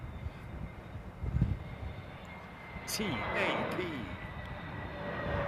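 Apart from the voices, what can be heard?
aircraft at London Heathrow Airport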